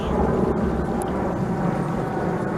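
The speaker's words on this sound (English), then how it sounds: "you can probably hear the plane going over" A commercial passenger plane flies overhead, a loud steady low rumble that holds evenly throughout.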